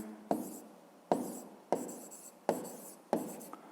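Handwriting during a fifth-grade math exercise: five crisp strokes or taps spaced about evenly apart, each followed by a short scratching trail, close-up and moderately quiet with no voices.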